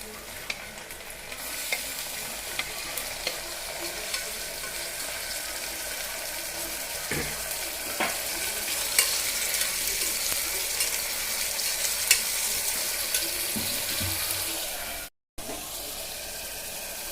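Chopped tomatoes sautéing with cooked onions in a pan, a steady close sizzle and hiss with occasional spatula scrapes and clinks, continuous apart from a brief cut near the end.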